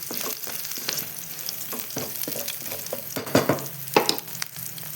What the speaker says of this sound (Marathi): तीळ पण छान अशी परतून घेऊ